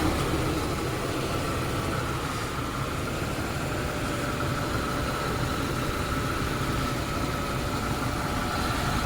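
An 80s Lincoln Town Car engine, smog equipment removed, idles steadily at close range with a low, even rumble and a constant mechanical whir, no voices over it.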